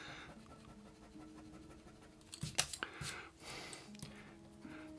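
A pencil drawing of gloves is erased with an eraser, making a faint scratchy rubbing that rises into a short flurry of brisk strokes before settling again.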